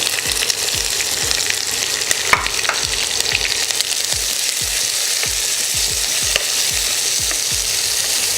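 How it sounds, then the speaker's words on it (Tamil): Sliced onions and green chillies frying in a pan for paneer pulao, a loud continuous sizzle broken by a steady run of rhythmic spatula scrapes and knocks against the pan. "அந்த ஆனியன் ஃப்ரை ஆகிறதுக்கு நல்லா ஃப்ரை ஆகட்டும்."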